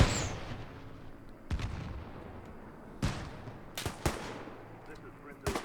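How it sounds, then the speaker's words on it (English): Mortar rounds and gunfire in the World War II setting of the Arma 3 game, several sharp distant booms and cracks spaced a second or so apart over a low rumbling background. "Let's call in a mortar on them."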